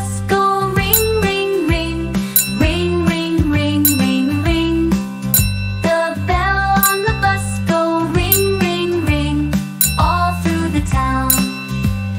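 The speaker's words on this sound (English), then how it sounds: "The bell on the bus" A bouncy children's nursery rhyme, The Wheels on the Bus, with full music throughout, bright bell-like tinkling chimes of the bus bell ringing out repeatedly over the steady beat.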